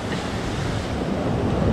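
A sizable river near Loch Duich in Scotland rushes steadily as a broad wash of water noise, with wind buffeting the microphone close by and no voices.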